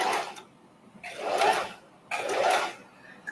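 Short bursts of machine stitching join small odd-shaped fabric scraps into a pieced cloth, two or three brief runs rising and falling, close by with no talk.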